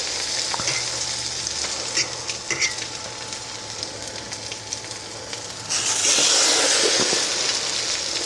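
Egg custard-soaked bread sizzles on a griddle over medium heat, a steady close crackling hiss that jumps louder and brighter near the end as more bread goes down, with no talking.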